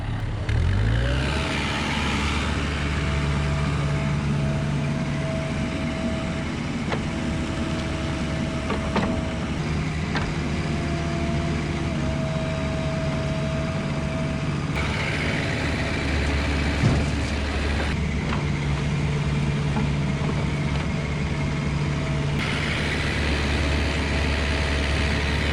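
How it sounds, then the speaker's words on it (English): A truck drives across a driveway construction site on a long rural driveway project. Its engine makes a continuous loud drone that shifts in pitch as it moves, with occasional clunks and no speech. "it's finally dry enough to use the truck"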